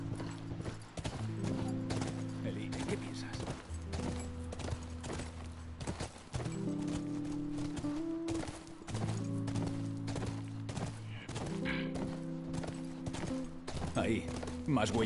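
Steady clip-clop of horse hooves in The Last of Us video game, a continuous rhythmic trot heard amid game ambience, with a tonal music bed running underneath.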